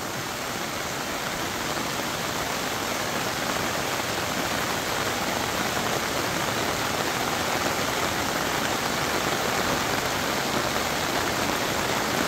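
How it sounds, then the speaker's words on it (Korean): Heavy, steady rain pouring down on a farm with a corn field, a dense continuous hiss that holds at the same level throughout with no pauses or voices. "빗소리에 그동안 막혔던 모든 것이 뻥 뚫리는 것 같아요."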